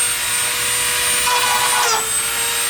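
A Dremel rotary tool grinds a slot into a bolt hole on a car fender during a 75mm fender install, giving a continuous high-pitched whine that dips in pitch briefly as it bites.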